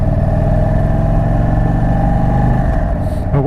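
Indian Super Chief motorcycle engine running steadily during a ride, a loud, close, continuous mid-pitched rumble with low throbbing harmonics and a slight rev change near the end.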